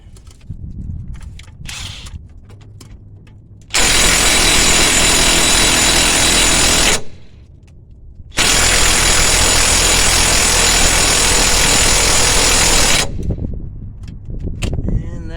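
A 1/2 inch power tool runs hard on a 2005 Honda Civic LX wheel bearing in a parking lot, two loud sustained bursts of several seconds each, separated by a short pause, with quieter clanks and handling noise around them.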